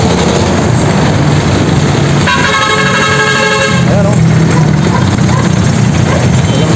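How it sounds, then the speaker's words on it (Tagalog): Car horns honk in heavy highway traffic, with several long blaring toots stacked together over a constant roar of engines, while a nearby voice speaks briefly. "Grabing traffic sa highway."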